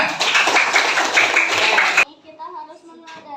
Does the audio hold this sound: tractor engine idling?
no